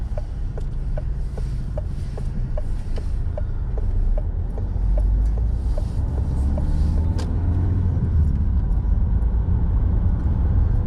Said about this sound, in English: So engine braking is when you can slow the car down